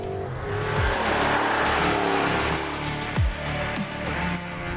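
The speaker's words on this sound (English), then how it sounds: "this specific V8 is a 4-liter bi-turbo that produces 338 kilowatts" A Porsche Cayenne Coupe GTS's 4-liter twin-turbo V8 roars steadily at high revs, with brief tire squeals and whooshes of passing, loud and close throughout.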